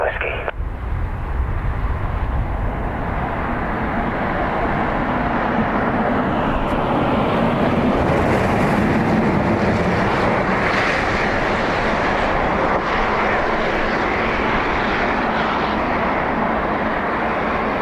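A jet aircraft at Dublin Airport rumbles steadily from runway 10 right, a broad, loud roar holding for the whole stretch with little change in level.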